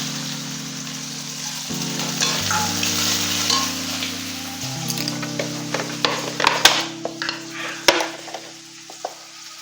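Chopped onion drops into hot oil already tempered with cumin seeds, a steady close sizzle and crackle with stirring scrapes and spatula knocks building toward the end, a low mechanical hum underneath and no talk.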